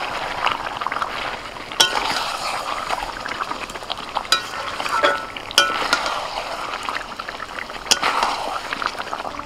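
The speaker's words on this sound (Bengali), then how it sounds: "এবার একদম হালকা হাতে আস্তে আস্তে করে নাড়াচাড়া করে চিকেনটাকে কষিয়ে নিতে হবে।" Chicken for a restaurant-style biryani is stirred and fried in a pan, giving a steady close sizzle with periodic sharp scrapes and knocks of the utensil against the pan.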